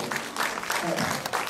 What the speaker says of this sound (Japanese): はい、大きな拍手を、あと大きな拍手を